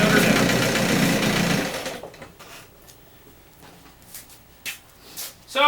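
A 1966 Evinrude 5HP outboard motor runs with a fast, even mechanical chatter for about two seconds and then shuts down, leaving quiet background with a few small knocks and clicks.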